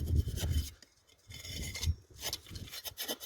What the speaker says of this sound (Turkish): Şimdi taşımızı oymaya devam ediyoruz.